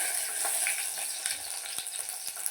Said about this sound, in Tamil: கொஞ்சம் லைட்டாக 2 பக்கம் ஃப்ரை பண்ணி வர்ற அளவுக்கு மட்டும் லைட்டாக பண்ணிக்கோங்க